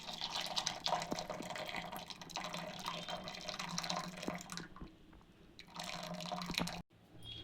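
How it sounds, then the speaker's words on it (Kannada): Water runs into a small bowl in a home kitchen while radish saaru is cooking, a steady trickle and splash lasting several seconds before stopping abruptly. "ಒಂದು ಬಟ್ಲಿಗೆ ಸ್ವಲ್ಪ ನೀರು ಬಸ್ಕೊತಾ ಇದ್ದೀನಿ"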